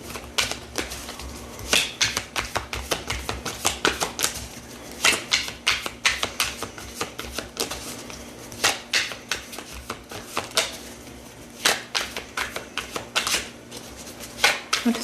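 Tarot cards shuffled close by in quick, crisp riffles and taps. The bursts repeat steadily across the whole stretch at moderate loudness, and no talk is heard.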